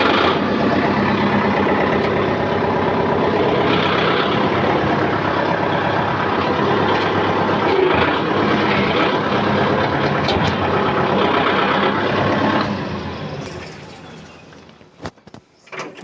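Tractor engine idling at a paddy storage shed, a steady mid-level diesel chug that runs evenly for most of the span before fading away near the end, with a few faint clicks and knocks.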